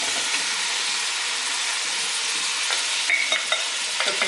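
Browned beef pieces for a Curaçao beef stew sizzle steadily in a hot pan, a loud, close, continuous frying hiss with a few scraping stirs near the end.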